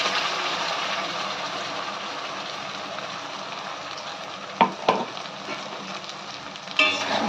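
Spice paste stirred into frying vegetables for Bangladeshi shahi sabji gives off a steady sizzle throughout. A few sharp scrapes and clinks of the spoon come near the end.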